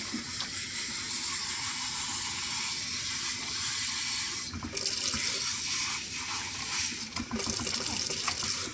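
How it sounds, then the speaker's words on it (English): Water from a tap gushes steadily over a silkie chicken's crest during a bath, loud and close, with a short break near the middle before the flow resumes. "I have to rinse her crest out, which is the part she doesn't seem to like so much"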